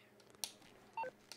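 A phone being dialed in Grand Theft Auto V: a quick sequence of distinct keypad tones, each a short electronic beep, close and clear against quiet game ambience.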